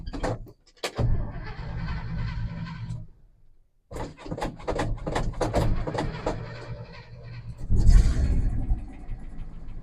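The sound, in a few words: old truck engine revving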